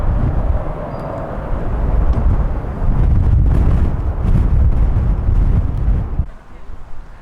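A jet airplane at Malaga airport roars steadily nearby, a broad rushing drone mixed with wind buffeting the microphone, then cuts down sharply near the end.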